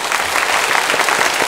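A church congregation applauds to welcome new members, a dense and steady wash of many hands clapping at once, loud and close, running through the whole moment with no break.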